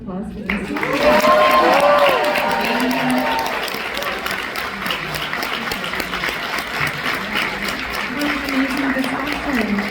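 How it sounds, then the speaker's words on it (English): Audience applause at a Barnes & Noble Union Square book event, a loud burst of clapping that swells early and then settles into a steady patter, with voices talking over it. "can we please give a round of applause for this?"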